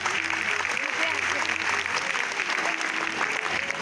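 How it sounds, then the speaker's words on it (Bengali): Loud, continuous applause from an audience at a stage performance in an auditorium, a dense even roar of clapping with some voices talking over it. "কেন সবার জন্য একটা জোরে হাততালি দিয়ে"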